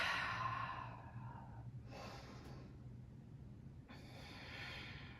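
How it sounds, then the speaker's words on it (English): Slow audible breaths during a seated yoga twist, with a long exhale at the start followed by two soft, airy breath sounds spaced a couple of seconds apart in a quiet room. "Keep breathing."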